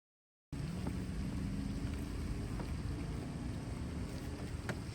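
A Workpro dual action polisher runs steadily outdoors at dusk, starting abruptly after a short silence and holding a continuous broadband whir with a faint low hum throughout.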